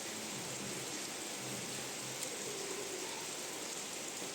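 Steady heavy rain pours outside an opened house door, a dense continuous hiss with no breaks that stays even and fairly loud throughout.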